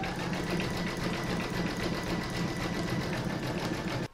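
An embroidery machine stitches a zigzag around a circle on an in-the-hoop table topper, giving a steady, fast mechanical whir and rattle that runs unbroken and alone for the whole stretch, then cuts off.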